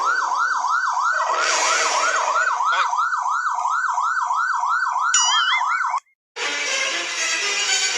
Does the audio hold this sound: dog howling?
no